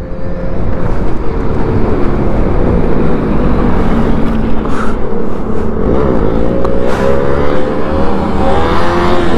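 A KTM Duke 200 motorcycle engine revs hard and close during a wheelie, a loud continuous roar rising and falling in pitch throughout, with no voices.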